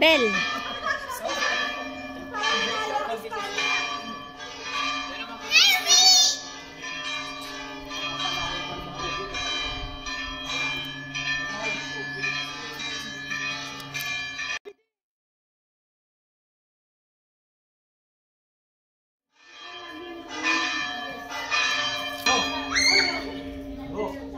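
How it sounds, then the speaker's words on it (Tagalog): Church bells in Salamanca, Spain ring in a rapid, clanging peal that stops abruptly for several seconds and then resumes, loud and resonant, with faint children's voices and talk beneath. "Ano bang ibig sabihin ng pagtunog ng mga kampana dito?"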